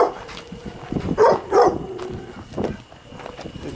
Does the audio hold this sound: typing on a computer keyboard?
no